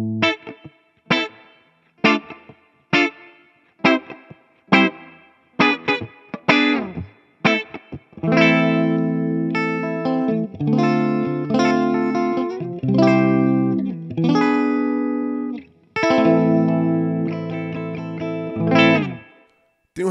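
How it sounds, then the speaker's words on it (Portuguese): Clean electric guitar played through an Ampero 2 Stomp using a Fender amp simulation with a Celestion impulse response: picked single notes and chords ring out clearly, then fuller strummed passages sustain with slight reverb, alone without talk. "primeiro som clean dela, simulando um Fenderzão com o Impulse Response próprio dela"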